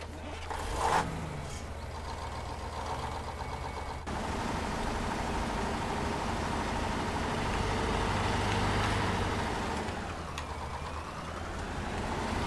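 A vehicle drives in Farming Simulator 19, giving a steady, moderately loud engine drone with a low hum that swells slightly midway and shifts near the end.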